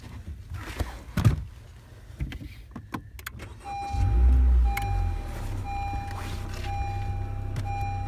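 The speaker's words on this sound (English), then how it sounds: "I'm just gonna start the car" A car engine turns over and catches partway through, settling into a steady low idle hum, preceded by interior clicks and thumps with a faint electronic tone running over the engine.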